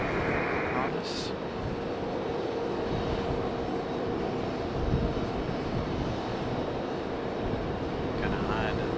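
An airplane at Raleigh-Durham International Airport produces a continuous, broad engine roar that holds steady throughout, heard from the ground at moderate distance.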